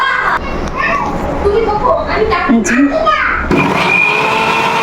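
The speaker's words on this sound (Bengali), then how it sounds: "যখন এটা ঠান্ডা হয়ে গিয়েছে, তখন আমি এটাকে একটু ব্লেন্ড করে নিব" A blender whirs through cooled baby food with banana, a loud steady drone under children's chatter and play, shifting to a brighter whine near the end.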